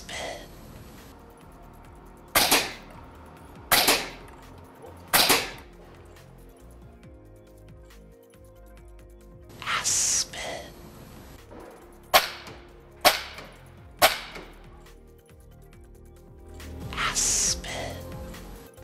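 A Seneca Aspen .25 caliber multi-pump PCP air rifle fires several sharp, fairly quiet cracks at irregular intervals, some close together, alone with no talk in between.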